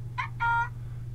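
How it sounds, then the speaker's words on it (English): A mobile phone notification sounds as two short electronic tone bursts, the second longer than the first, over a steady low background hum with no talk. "Oh, that's my phone."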